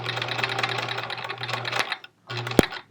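A sewing machine stitches a quilt seam in rapid, rattling bursts, running steadily for about two seconds, pausing briefly, then starting again with a sharp click near the end.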